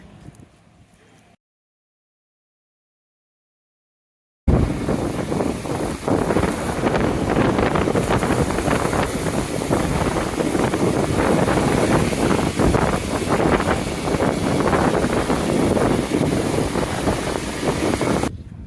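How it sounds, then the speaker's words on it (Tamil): Strong roaring wind from Cyclone Fengal, around 90 km/h, buffets the microphone continuously on a motorbike ride after a brief silence, a loud steady gusting rush with no voices. "சும்மா காற்று, பைக்கை ஓட்ட முடியல"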